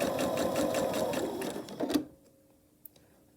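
Sewing machine stitching small quilt squares for a 10.5-inch Double V quilt block, a steady rapid mechanical whir with pulsing stitch rhythm for about two seconds, then stopping, leaving faint small clicks.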